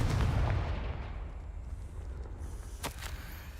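Confringo blasting spell in the Hogwarts Legacy video game, a heavy booming explosion at the start that rumbles and fades, with a faint crackle afterward.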